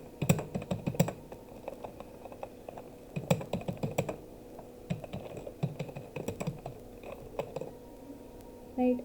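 Python code being typed on a computer keyboard, with steady bursts of close, crisp key clicks and short pauses between words, loud and continuous across the whole stretch with no talking.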